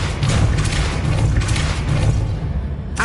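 A loud, rumbling blast of the Depulso spell in Hogwarts Legacy, a booming, forceful roar that holds for about three seconds before cutting off with a brief clatter.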